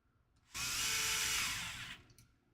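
A power drill whirs in one steady burst of about a second and a half while driving screws into motor mounts, loud and close against a quiet background.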